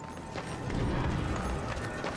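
Horse hooves clip-clopping in the Darksiders 2 video game, a rapid, continuous patter of hoofbeats at a moderate level, blended with game background noise throughout.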